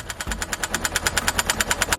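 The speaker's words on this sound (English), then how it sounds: "The poles were whacked in using a hydraulic hammer on a tractor." A tractor-mounted hydraulic hammer drives fence poles into farmland, producing a rapid, even train of loud pounding knocks over a low engine hum, close and without any talk.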